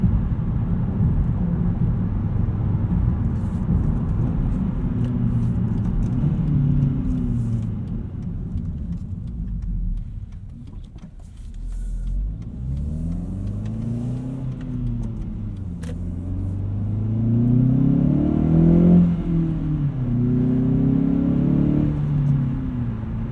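A 2016 Hyundai Veloster Rally Edition with a six-speed manual drones steadily, then climbs in pitch through several rising sweeps as it accelerates, loud and close with no talking.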